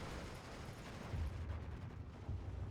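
Distant artillery strikes in Steel Division 2 sound as low, muffled booms. Two heavier thuds rise out of a soft, continuous rumble, all faint with no voices.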